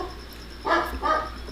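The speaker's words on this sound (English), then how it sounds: "Can't get a word in. It's just barks." A dog barks twice in quick succession, two sharp, fairly loud barks a short gap apart over a quiet background.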